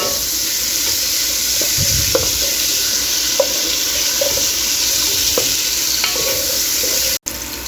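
Onions caramelizing in a pan while the meal is cooked, giving a steady broad sizzle that runs the whole time, close and loud, with a few light clicks of stirring and no talking.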